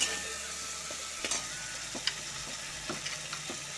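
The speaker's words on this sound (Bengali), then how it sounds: "বাটা মশলাটা দিয়ে ভালো করে কষিয়ে নেবো একটু" Ground spice paste sautéing for veg paneer, a steady close sizzle and fry hiss with a few soft scrapes of stirring, no voices over it.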